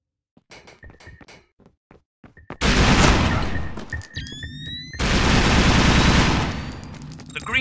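Rapid gunfire erupts in an online video game as a terminal comes under attack, with sparse clicks and shots giving way to two loud, sustained bursts of automatic fire and metallic clatter.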